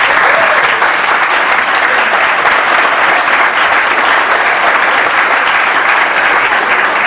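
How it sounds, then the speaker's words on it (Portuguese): Loud, dense applause from a lecture audience fills the whole stretch without a break, steady clapping with no talk over it. "Palmas para ela"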